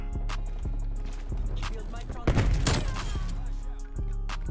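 EM2 rifle gunfire in Call of Duty Black Ops Cold War plays as a run of fairly slow, evenly spaced sharp shots, with a denser burst in the middle, mixed under game sounds and a player talking.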